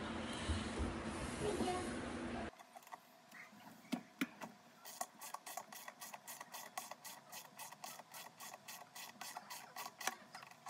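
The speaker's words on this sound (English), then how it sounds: "we're gonna use a ratchet and wrench and 10 millimeter socket" A ratchet wrench fitted with a 10 mm socket backs out the bolt on an LG washing machine's drain filter cover, a close run of quick, even clicks after a brief burst of broadband noise, with no talking.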